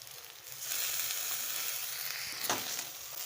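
Leftover roti pieces fry in a pan with a little soy sauce, giving a soft, continuous sizzle with a single louder scrape or clatter near the end.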